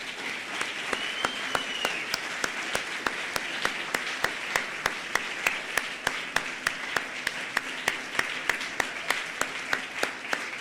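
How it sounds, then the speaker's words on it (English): A crowd at a college athletic Hall of Fame ceremony keeps up sustained applause, with one sharp, evenly spaced clap standing out in a steady beat above the wash of hands. "Let's please give them one more round of applause."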